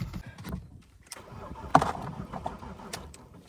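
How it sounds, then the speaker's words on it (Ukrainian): An old car's engine cranks and sputters as it tries to start in a Ukrainian village, rough uneven turning close by, with a bird calling faintly. "Допоможи Господи, щоб машина завелася."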